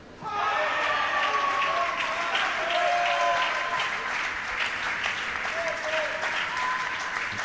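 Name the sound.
crowd noise at table tennis championship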